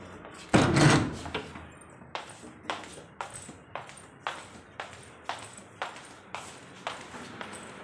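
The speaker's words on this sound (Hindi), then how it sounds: "इधर का दरवाज़ा तो बंद कर दूँ मैं" A room door is pushed shut with one heavy thud, followed by a steady run of sharp, evenly spaced metallic clicks as it is locked, close and clear in a quiet house.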